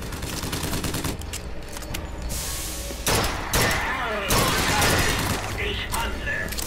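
Bursts of gunfire from the video game BioShock Infinite crackle over steady game background noise, a dense volley early on and a few heavier blasts later.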